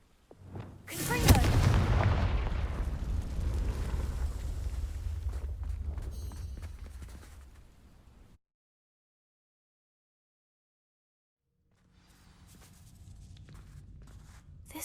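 Confringo blasting spell cast in the Hogwarts Legacy video game, a sharp explosive burst that trails into a long rumbling roar for several seconds, then silence before faint ambient game sound returns.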